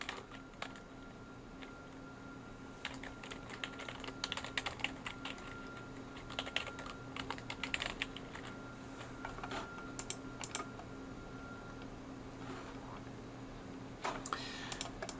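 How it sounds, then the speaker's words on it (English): Password being typed on a computer keyboard during a software installation, a steady run of quiet, close key clicks in irregular bursts over a soft background hum, with no talking. "We're going to once again enter that password."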